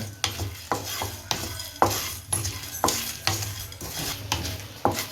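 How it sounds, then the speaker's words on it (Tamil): Cloves, peppercorns and dried red chillies dry roasted without oil in a pan on a low flame, with repeated spoon scrapes and clinks against the metal about twice a second, close and fairly quiet. "ஸ்டவ்வை நல்லா லோ ஃப்ளேமில் வச்சு நல்ல வர வாசனை வர்ற அளவுக்கு நல்லா வறுத்து எடுத்துக்கலாம்"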